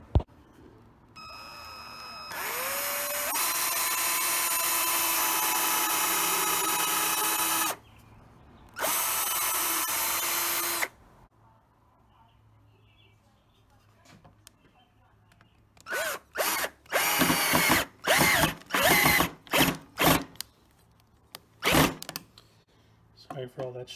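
A power drill whirs in two long bursts, then a rapid series of short stuttering bursts as the bit slips and strips a screw, loud and close.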